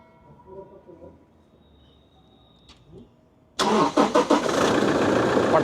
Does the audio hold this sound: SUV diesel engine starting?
yes